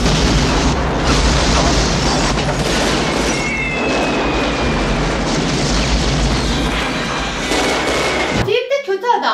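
Ammunition blowing up in a film scene, revealed as fireworks: a loud, dense, continuous roar of bursts and crackling with faint whistling streaks, ending in a sharp cut to a short, different sound.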